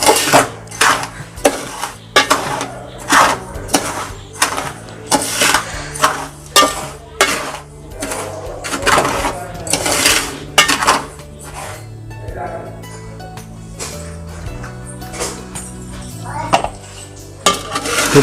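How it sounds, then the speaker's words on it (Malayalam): A spoon repeatedly scrapes and clinks against a metal pan as sugar caramelizes and browns, in an irregular rhythm, close and fairly loud, with quieter stretches between strokes. "ഇളക്കിക്കൊണ്ട് ഇങ്ങനെ നിൽക്കുക"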